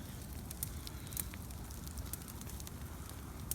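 A fire burns steadily nearby with sparse sharp crackles and pops scattered over a low rumbling hiss.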